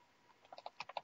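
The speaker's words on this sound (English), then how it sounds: "And now you can hear me typing" Quick, soft clicks of typing on a computer keyboard, about a dozen keystrokes in an uneven burst, faint and close with no voices.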